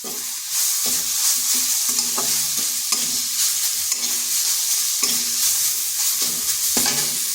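Cauliflower stalk mixture stirred in a frying pan with sugar and coriander leaves, a steady close sizzle under repeated scraping and clinking strokes of the spoon against the pan.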